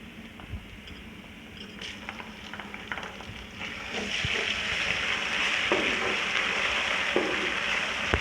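Ginger garlic paste and spices, including black cardamom, sizzling and frying in a pan for chicken biryani, a steady crackle with soft stirring scrapes that grows louder midway.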